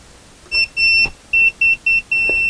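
A voltage tester held to a live power supply for lights gives a series of sharp electronic beeps. Two longer tones are followed by several quick short ones and a final sustained tone, loud and close against a quiet background.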